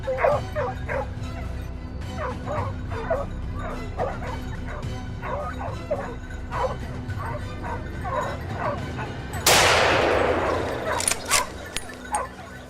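A hunting hound barks and yips repeatedly in steady bursts while chasing wild boars on an early winter hunt, the calls loud and close with some whimpering, followed near the end by a sharp loud crack.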